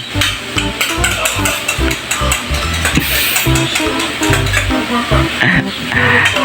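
Eggs being scrambled in a pan, loud sizzling under repeated scraping and clinking of a utensil against the pan, close and busy, with no talking.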